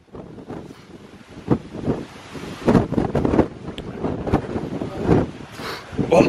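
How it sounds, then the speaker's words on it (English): Strong gusts buffet the microphone in rumbling bursts on a hillside in the English Peak District, rising and falling without pause. "Can't hear out because it's too windy to be filming."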